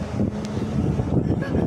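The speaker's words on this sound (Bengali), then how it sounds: "প্রচণ্ড বাতাস চড়ছে, বৃষ্টি হবে, বৃষ্টিও শুরু হয়ে গেল।" Strong wind blows steadily outdoors as rain begins, a continuous rushing roar buffeting the microphone with small gusts throughout.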